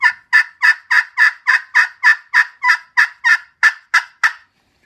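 Black Locust striker worked on a copper-surface pot call for wild turkey, producing a quick, loud, near series of about thirteen evenly spaced raspy yelps with no talking.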